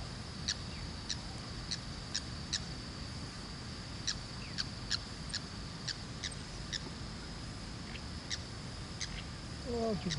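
Rufous-collared sparrows give short, high chirps at irregular intervals over a low, steady background rumble, fairly distant and light.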